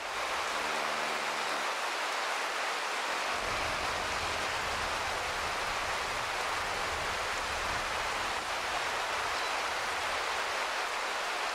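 Steady rain pours down in the hunting video game Way of the Hunter 2, a dense, even hiss that holds for the whole stretch, with a brief low droning tone near the start and no talking.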